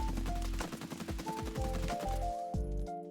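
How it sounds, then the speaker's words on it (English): A heavy-build assault rifle fires in a video game while the player walks, producing a loud run of rapid bursts with short gaps between them and an electronic tone beneath. "now walking while shooting"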